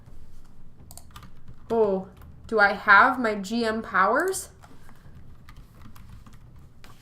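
Soft clicking of a computer keyboard runs steadily underneath, mostly covered by someone talking in bursts in the middle.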